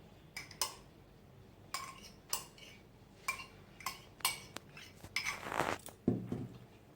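Metal utensils clink against a bowl while paneer is mixed for dahi kebabs, a series of sharp separate taps and scrapes with pauses between them, close and fairly quiet, then a busier burst of clattering near the end.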